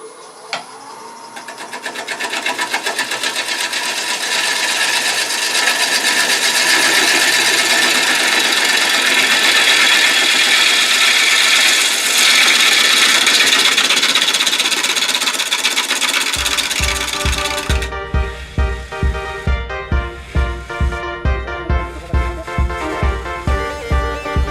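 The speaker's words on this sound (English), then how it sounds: "I'm going to keep shaping that bowl down a little bit until this part here" Gouge cutting a live-edge winged walnut bowl on a wood lathe: a loud, steady whirring scrape that runs continuously, then gives way to a rapid pulsing rhythmic chatter near the end.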